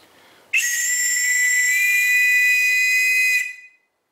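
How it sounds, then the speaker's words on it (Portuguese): A survival whistle is blown hard once, a piercing, very loud shrill tone held steady for about three seconds before cutting off, close to the microphone. "Então eu vou apitar aqui para a gente ver."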